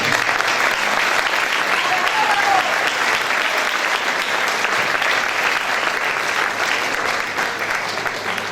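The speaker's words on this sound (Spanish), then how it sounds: "Un forte aplauso e disfrutado." An audience at a choir singing festival gives a loud, sustained round of applause after a community choir performs, a dense wash of many hands clapping steadily without a break.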